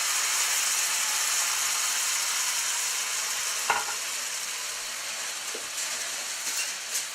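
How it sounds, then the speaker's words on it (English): A steady, close sizzle of lemon butter poured over coffee-crusted lamb chops frying in a hot pan, with a few faint clicks and taps over it. "Now I'm going to pour this lemon butter all over the lamb chops."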